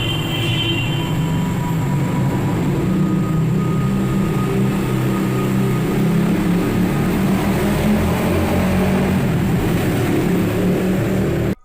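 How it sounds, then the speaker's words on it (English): Steady, loud roar of road traffic heard through a window, a continuous low rumble with a faint hum and no breaks or voices, filling the whole stretch. "traffic is heard roaring out the window."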